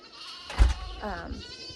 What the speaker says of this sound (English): We're gonna have to deal with the baby goats yelling at us the whole time